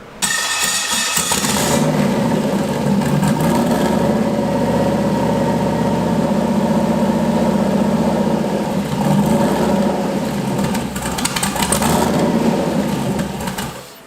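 LS-swapped Ford Mustang V8 cranking and firing up, then running loud and steady close by with slight throttle fluctuations before shutting off at the end.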